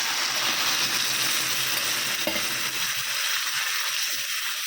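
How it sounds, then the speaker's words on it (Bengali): Water poured into a hot pot of spiced lentils with ginger and cumin, a loud, dense, steady hiss and sizzle filling the whole stretch, close, with a faint knock midway and no voices. "এবারে জল দিয়ে দেবো আমি।"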